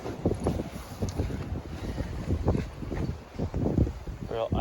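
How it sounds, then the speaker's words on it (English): Icy Arctic wind roars and gusts around a canvas tent during a heavy snowstorm, a loud, uneven buffeting rumble close to the microphone, with a person talking underneath. "Real icy Arctic winds blowing."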